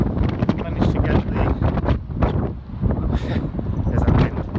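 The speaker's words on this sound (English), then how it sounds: "It's still a bit windy though." Gusty wind buffeting the microphone outdoors on a walk, a continuous loud rough rumble with shifting bursts, over faint talk.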